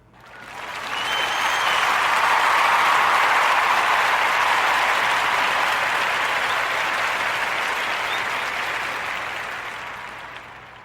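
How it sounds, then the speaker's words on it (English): Warm audience applause on a podcast, many hands clapping in a full, even roar that swells quickly, holds for several seconds and tapers away near the end. "let's give a warm narrative podcast round of applause for Dr. Laura Borland, dad advocate."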